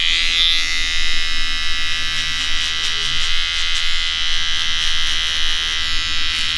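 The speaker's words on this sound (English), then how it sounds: "I'm going to start the trimmer line at exactly where I stopped with the clipper" An electric hair trimmer cuts a line into a buzz-cut haircut. Its constant, close, loud buzzing hum pulses slightly, and no one speaks over it.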